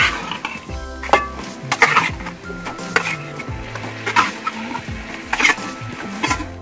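Chicken sautéing with tomato and spices in a pot for khichdi: repeated metal clanks and scrapes of a spoon against the pot over a soft sizzle, irregular and fairly close.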